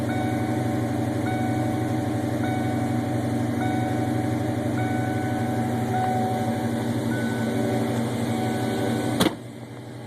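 A 1993 Ford Mustang LX with custom cam and ported intake idles at about 1,500 RPM, a steady close engine drone with a repeating dinging chime over it, ending in a sharp click.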